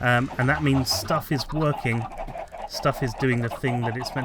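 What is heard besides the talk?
No everyday noise stands out behind the speech.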